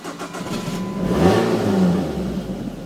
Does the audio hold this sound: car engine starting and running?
yes